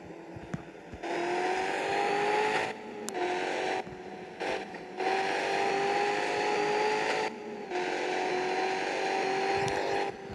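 A car engine revs hard while speeding through traffic in a video game, loud sustained roaring with rising pitch, cut by several brief drops as the throttle is released and reapplied; no speech.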